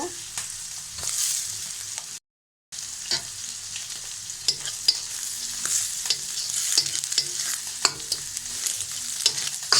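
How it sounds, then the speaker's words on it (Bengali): Eggs go into a pan of fried onion and are stirred with repeated scraping clicks over a continuous sizzle. After a short pause, the stirring goes on at a steady pace. "ডিমগুলো দিয়ে ভালোভাবে নেড়ে চেড়ে নেব।"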